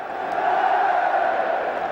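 A large football stadium crowd at the 1993 FA Cup Final replay between Arsenal and Sheffield Wednesday roars in a loud, sustained cheer that holds steady throughout.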